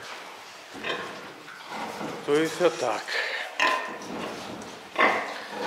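A sow in a pigsty grunts and gives short squeals in bursts, close and fairly loud, while someone speaks over and between the calls.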